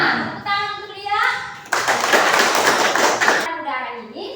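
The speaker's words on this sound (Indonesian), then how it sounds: "Tepuk tangan untuk dia." Children in a classroom break into a burst of clapping and cheering for a classmate, loud and dense for about two seconds between stretches of a teacher's voice.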